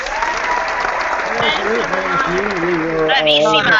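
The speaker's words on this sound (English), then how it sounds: "a big round of applause to our other contestants" An online game show audience claps for the contestants, a loud patter of applause from many people mixed with overlapping voices and cheers.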